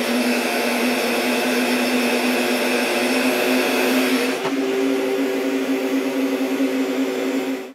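A heater warming plastic guitar binding for bending produces a loud, steady blowing drone that holds nearly unchanged, shifts slightly in tone partway through, then cuts off at the end.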